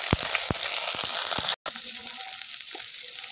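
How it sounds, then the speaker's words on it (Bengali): Sliced capsicum and onion dropped into hot mustard oil in a wok, a loud sustained sizzle with a few sharp knocks early on, a momentary cut, then quieter frying with stirring. "কড়াইয়ে তেল দিয়েছি, দিয়ে দিব ক্যাপসিকাম আর পেঁয়াজ ফালি করা"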